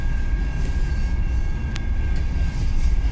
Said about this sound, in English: That's a long train. He's going slow.